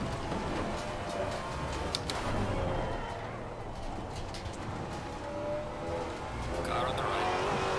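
Race car in Assetto Corsa Competizione, a Maserati GT4 at Suzuka during a 4-hour event with rain expected, with a rival car passing alongside. A steady, dense engine and road roar holds throughout under an occasional voice.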